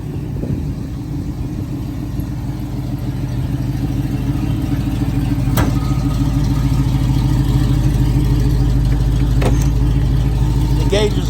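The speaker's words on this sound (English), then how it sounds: "Car runs, drives, stops," A 1967 Camaro convertible with a 327 V8 engine runs steadily up close, a deep continuous rumble that grows slightly louder partway through, with a couple of brief clicks and no clear speech.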